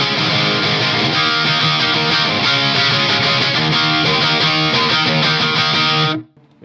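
Electric guitar played through a Marshall amp with gain backed off slightly for a 90s pop punk tone: dense, driven chords sustain loudly and continuously, then stop abruptly near the end.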